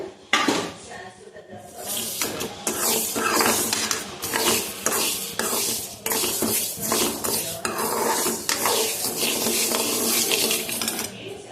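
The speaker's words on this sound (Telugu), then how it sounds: "మెంతులు కూడా వేసేసుకొని దోరగా అనేది వేయించుకోవాలి" Fenugreek seeds being fried in a pan for a mango pickle, heard as close, busy scraping and stirring with metallic clatter of a utensil against the pan, continuing steadily with a faint sizzle underneath.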